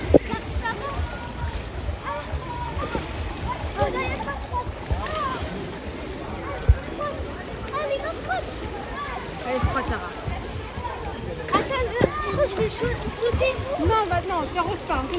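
Water splashing and sloshing in a swimming pool, with irregular splashes throughout and voices talking over it.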